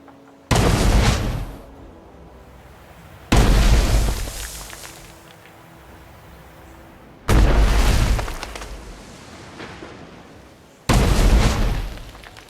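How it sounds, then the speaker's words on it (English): Explosions in the game Anno 1800 go off as an Easter egg, four loud sudden booms a few seconds apart, each bursting sharply and then fading into a lingering rumble. "So clicking the middle button enough times will cause an explosion to happen"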